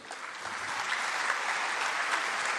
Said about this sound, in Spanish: Les recibimos con un fuerte voto de aplauso.